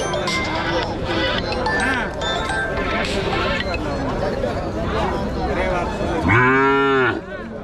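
Cattle and calves low at a busy cattle market in Madharapakkam, Tirupattur, with a loud drawn-out moo near the end rising over steady crowd chatter and talking.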